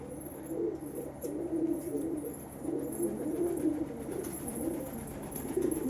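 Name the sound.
pigeons cooing at the loft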